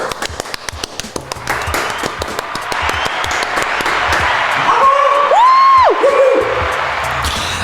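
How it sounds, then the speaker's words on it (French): Audience applause and cheering, a steady wash of clapping that swells and holds, with a voice briefly rising over the crowd near the end. "Alors applaudissez-vous."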